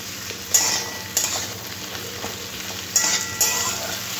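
Vegetables stir-fry in a pan for a Bengali curry, a steady close sizzle with several sharp bursts as the mix is stirred, no talking.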